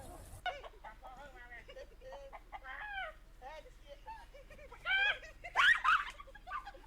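Chickens clucking in a funny animal-attack setting: a steady run of nearby clucks and squawks, with louder bursts near the end, mixed with people talking over them.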